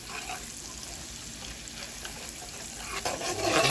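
Garlic stirred in a hot frying pan with a steady broadband sizzle throughout, brightening near the end as the utensil moves through it, with no one talking.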